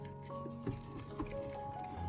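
Sticky, watery whole wheat sourdough dough mixed by hand in a bowl gives soft wet squelches and a couple of distinct squishy pops against a quiet background.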